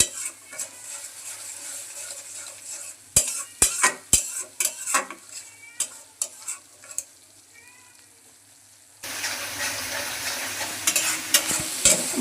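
Turmeric, chilli and coriander powder with a little salt are stir-fried for a mustard-paste stem chorchori, with sharp metallic spatula clacks and scrapes over a quiet sizzle, then a louder steady frying hiss near the end.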